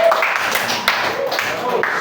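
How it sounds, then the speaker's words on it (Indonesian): Group clapping during a teaching session, a short burst of scattered hand claps mixed with talking voices. "Tepuk tangan dulu."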